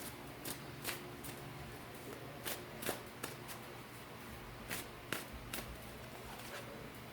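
Tarot cards being drawn from a big deck and shuffled, giving soft repeated riffling and slapping snaps at an irregular pace, close and fairly quiet, with no talk.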